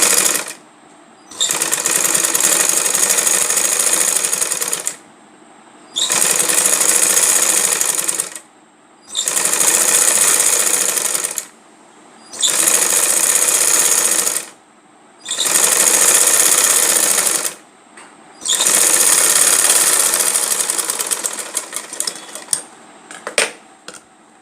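A sewing machine stitches along a fabric sleeve in several long, rapid, buzzing runs separated by short pauses, loud and close with no talking.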